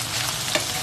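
Sinangag, garlic fried rice made from hard leftover rice, frying in a pan with a steady broadband sizzle and a brief stirring scrape partway through, close and moderately loud, with no voices.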